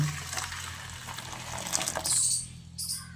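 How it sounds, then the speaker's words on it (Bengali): Boiling hot water is poured into a bowl for soaking soybeans, a short close gushing splash that rises and then cuts off, with no voices. "তার জন্য এই বাটির মধ্যে ফুটন্ত গরম জল দিয়ে দিচ্ছি।"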